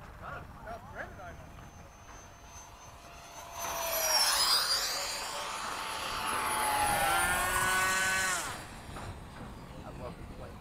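An FMS 70mm F/A-18 RC model jet makes a low pass, its high whine swelling as it approaches, sweeping down in pitch and fading as it goes by, with faint voices before and after.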